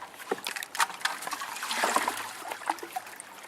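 Water pours and splashes into a bucket during sluice cleanup, an uneven trickling and splattering at close range with no talk.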